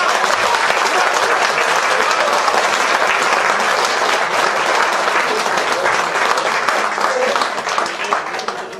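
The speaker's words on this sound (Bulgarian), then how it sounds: "Благодаря ви за аплодисментите" Loud, sustained applause from a crowd at the opening of a gadulka players' gathering in Kalofer, greeting host Rumen Stoyanov, a dense unbroken roar of clapping that stays strong throughout and eases slightly at the end.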